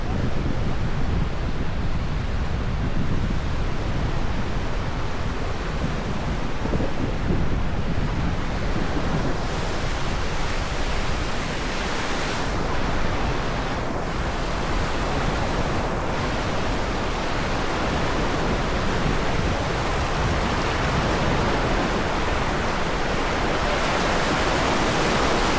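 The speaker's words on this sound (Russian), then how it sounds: "такая тишина и только звук волн и ветра" Steady roar of sea waves washing onto a beach with gusting wind, a continuous broad rush that swells slightly at times, with no voices.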